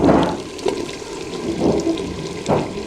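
Soaked, cut potatoes tipped into a pan of browned chicken for an aloo chicken shorba, giving a few bursts of wet splashing and sizzling at irregular moments, close and fairly loud with a steady frying hiss between.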